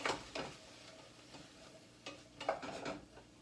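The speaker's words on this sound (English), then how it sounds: "might as well give my onions one stir" Onions for gumbo get a few quiet stirs in a pot, soft scraping and clinking strokes coming in short irregular bursts, faint and close with no talk.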